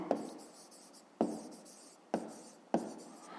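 A pen writes a single digit by hand on paper in quiet, short scratchy strokes. Four distinct strokes land at uneven intervals, each with a soft scraping tail.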